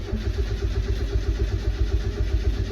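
A turbocharged Mazda Miata engine cranks over on the starter without firing, a rhythmic low chugging repeating evenly several times a second, close and steady throughout.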